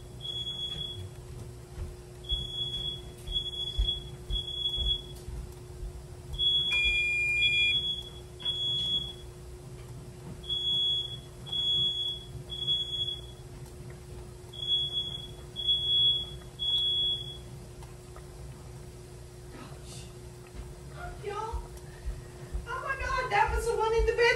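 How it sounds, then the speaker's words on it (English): A household smoke alarm goes off in a home kitchen, sounding repeated shrill high-pitched chirps in quick bursts for about fifteen seconds, fairly close. A voice talks under the alarm, and a cat meows near the end. "That was every time one's gone off, it's been a different alarm."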